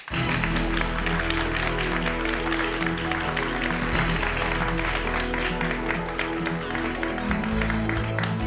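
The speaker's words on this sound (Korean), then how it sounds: "박수로 맞이해주세요" An audience at a televised mathematics lecture event applauds to welcome a primary school teacher to the stage. Dense, steady clapping fills the whole eight seconds at an even level, mixed with a tonal music bed.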